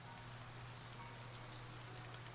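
Steady rain from the visual novel Princess Evangile, a constant soft hiss of falling drops with a low hum beneath, even and unbroken throughout.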